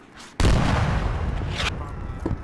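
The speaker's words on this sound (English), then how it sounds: "Maybe a gunshot or AT shot to my north." In the video game Squad, a gunshot or anti-tank shot goes off as a sudden loud blast, followed by a long rumbling tail and a second sharp burst a little later.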